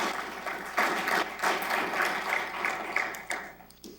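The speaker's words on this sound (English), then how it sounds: "So let's give them another round of applause." Applause from an audience at a detention center graduation ceremony, steady clapping that swells and fades over a few seconds, fairly close and filling the room.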